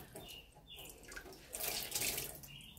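Water runs from a sink tap in a painting studio to rinse a canvas being reclaimed with gesso, a steady splashing flow that swells louder midway and continues close by with no talking.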